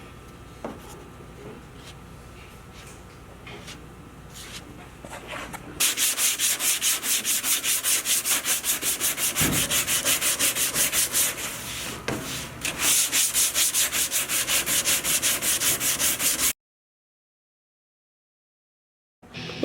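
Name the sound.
sanding plastic body filler on 69 Nova hood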